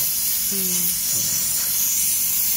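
A water jet sprays and hisses steadily over plant tissue culture seedlings being rinsed, with a brief tonal squeak partway through.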